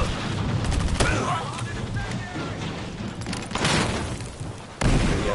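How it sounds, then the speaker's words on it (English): Explosions and gunfire in the video game Battlefield Hardline, with heavy booms and rapid shots layered into a dense, loud barrage that continues throughout. "Holy fucking explosion."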